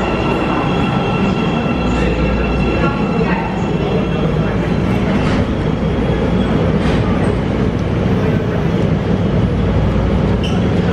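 An Amtrak passenger train packed with holiday crowds rolls along steadily, with a continuous low rumble of wheels on rails, rattling car noise and occasional faint squeals, heard from inside the car without a break.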